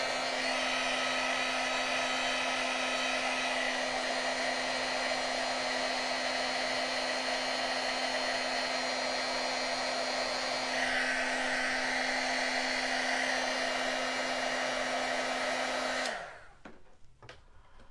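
A heat embossing tool blows hot air over a paper card in a steady, loud, continuous whir like a hair dryer, running unbroken for about sixteen seconds before switching off abruptly.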